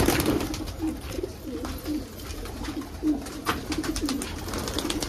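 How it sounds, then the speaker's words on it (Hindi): Several pigeons coo in low, repeated rolling calls close by, with faint rustling and shuffling in the background. "दोस्तों कबूतर बहुत सारे हैं दोस्तों"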